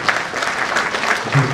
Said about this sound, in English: Let's clap for talent.